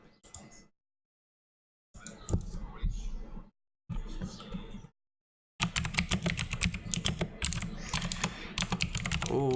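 Computer keyboard typing comes in bursts separated by silent gaps, then a long stretch of rapid, clicky keystrokes close to the microphone, with speech mixed in among the bursts.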